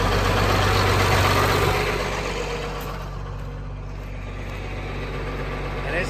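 A 1992 John Deere 4055 tractor idling on a cold morning while its three-point hitch lowers, a steady diesel rumble close by that eases slightly softer in the second half.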